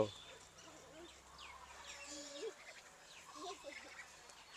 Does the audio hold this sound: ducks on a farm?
yes